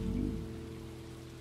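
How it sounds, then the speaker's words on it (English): Calm rain patters softly in the video game Stardew Valley, a brief steady hiss beneath sustained, gentle background music. "the relaxing music with the calm rain"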